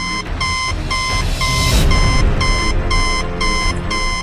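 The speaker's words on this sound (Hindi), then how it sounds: "उसके अंदर एक लाल बत्ती जल रही थी और वो जोर जोर से बीप कर रही थी।" A machine with a flashing red light beeps loudly in rapid repeated bursts of high electronic tones, about eight pulses in a row, with a brief noisy whoosh midway under steady background hum.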